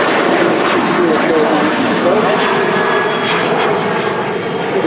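An airliner descending toward Manchester Airport over the Hyde area, a loud steady engine roar filling the whole span with someone talking over it.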